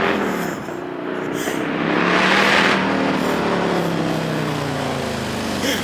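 Harley-Davidson Road Glide motorcycle with a new engine, built as a skinny-tire custom, runs loud and close, holding a steady throaty rumble that rises slightly in the middle before settling back, with no talk over it.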